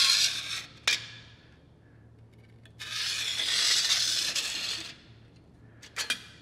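A Sharpie marker held in a hole of a simple guide is dragged around sheet metal to draw a circle, giving soft rubbing scrapes in two longer strokes, separated by a few sharp taps and clicks.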